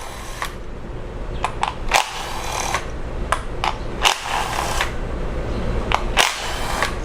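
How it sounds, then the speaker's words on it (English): A 10mm socket on a ratchet backing out ignition coil bolts on a Jeep 2.4 engine, with quick clicking ratchet bursts repeating at short intervals, close and distinct. "remove the ignition coils now with a 10mm socket"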